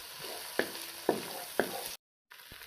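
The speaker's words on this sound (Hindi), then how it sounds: "ये अदरक लहसुन और हरी मिर्चों का पेस्ट में डाल दूँ, इसको भी मैं भून लूँगा" Ginger, garlic and green chilli paste fries in a pan with browned onions for a stuffed tinda and mutton mince curry, giving a steady close sizzle broken by three sharp stirring clanks and a brief cut near the end.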